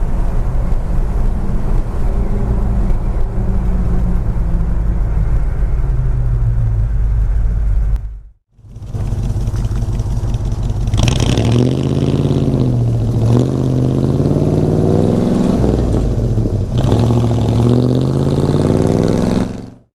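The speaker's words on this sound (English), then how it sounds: "So we'll just cruise it around, and hope you enjoy the ride." A 1965 Chevrolet Custom C20 truck rumbles steadily while driving, its engine droning loud and close throughout with road and wind noise, a brief dropout midway, then revs rising and falling as it cruises on.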